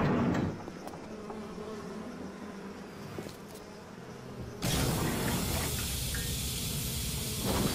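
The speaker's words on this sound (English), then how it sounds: "The smoke chills the bees out." Bees buzz in a Bioshock farmers market scene, a dense continuous drone that shifts abruptly partway through to a louder, brighter hiss with the swarm still audible underneath.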